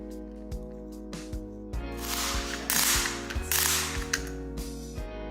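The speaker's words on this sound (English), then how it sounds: "Once it's engaged, it'll sound and feel like a gas cap. Give it 3 rounds of these multiple clicks." A torque tool ratchets with repeated sharp clicks while tightening a Yakima RidgeLine roof rack tower, like a gas cap clicking. The clicks come close up in several quick bursts over a steady low background hum.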